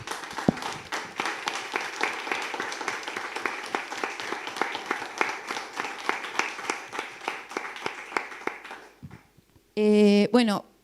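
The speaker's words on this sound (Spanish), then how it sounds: "le damos la bienvenida con un fuerte y caluroso aplauso" An audience welcomes a speaker at a gender-awareness workshop with loud, sustained applause of many hands clapping together. The clapping fades out and a voice begins speaking just after.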